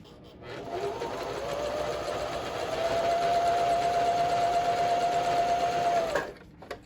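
A sewing machine stitches quilt pieces together in one steady, close-up run of whirring for about five seconds before stopping, with no talk over it.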